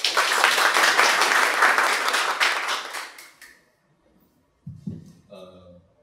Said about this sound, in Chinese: 那我们以最热烈的掌声来谢谢谢老师